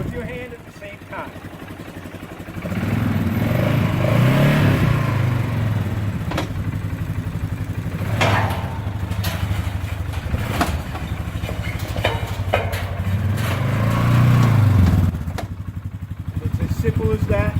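An ATV engine idles and then revs in two long surges as the rental vehicle is driven off a trailer, close and fairly loud, with someone talking over it throughout.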